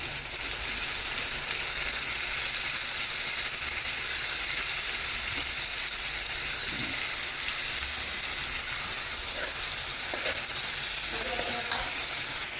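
String beans tossed into a pan of squash for ginataang gulay sizzle with a steady bright hiss, plus a few soft stirring knocks near the end, close and alone.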